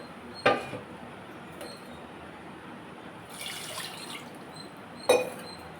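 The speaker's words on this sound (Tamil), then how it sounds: "இப்போ நம்ம வேக வச்ச பருப்பை ஊற்றிக்கலாம்." Cooked lentils are poured into a pot of drumstick and eggplant sambar, with a couple of brief wet splashes and a soft sloshing pour in a quiet kitchen.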